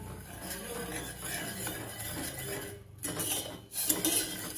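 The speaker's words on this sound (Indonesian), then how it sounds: "terus kita aduk-aduk. Aduk-aduk sampai dia mencair ya." A spoon stirring a nougat mixture in a pot over a low flame until it melts, soft scraping and clinking against the pan, fairly quiet and continuous.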